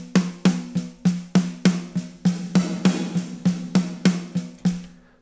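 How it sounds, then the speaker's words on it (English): Close-miked snare drum from an ML Drums mix with its direct signal sent to reverb, hit about fifteen times in a steady run, each loud crack trailing into a washy roomy tail. "send the direct signal of the close mics to the reverb,"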